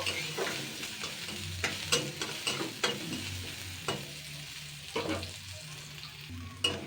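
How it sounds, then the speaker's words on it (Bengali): Chopped onion and three chopped garlic cloves fry lightly in a pan for moong dal with drumstick leaves, a steady sizzle broken by repeated scraping stir strokes, close and uneven in rhythm, with no talking. "খোসা ছাড়ানো পেঁয়াজ কুচানো দিয়ে দিচ্ছি আর তিনখানা রসুন কুচানো দিয়ে দিচ্ছি জাস্ট আমি একটু হালকা নাড়াচাড়া করে নেব"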